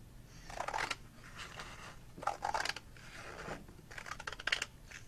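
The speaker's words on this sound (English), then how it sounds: "we are going to cut along this seam." Scissors cutting sheets of paper along a fold, three short bursts of crisp snipping separated by brief pauses, close and quiet.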